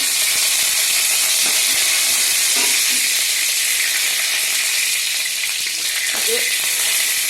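Curry leaves crackle in hot coconut oil, making a loud, continuous, hissing sizzle close up that holds steady throughout, with a few faint clicks underneath.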